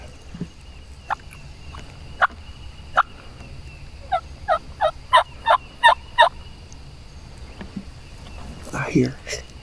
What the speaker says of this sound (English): I just heard another turkey gobbling way up that way.